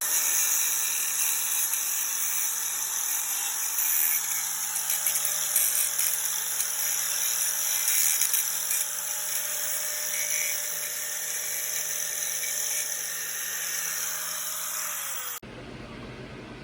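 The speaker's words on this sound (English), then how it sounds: "we're going to get to watch me use the angle grinder" An angle grinder runs steadily at close range, a continuous high-pitched whine with a hissing edge that holds for about fifteen seconds, then cuts off abruptly.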